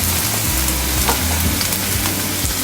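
Garlic hits a hot pan where ginger is already cooking for a clam dish, giving a loud, continuous sizzle and frying crackle close by, with no talking.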